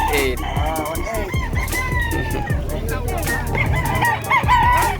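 Roosters crow repeatedly amid clucking at the Malasiqui livestock market, several overlapping calls near and far over a busy background where people talk.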